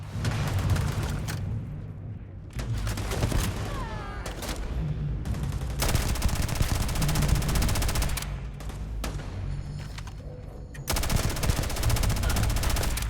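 Gunfire in the space game Starfield rattles almost continuously, with rapid machine-gun bursts and heavy shots overlapping in loud, dense volleys with brief gaps.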